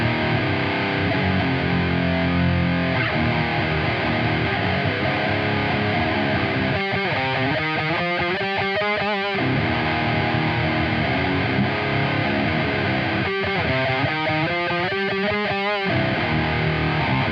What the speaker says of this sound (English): each gain stage just adds a little bit extra, and the distortion stays cleaner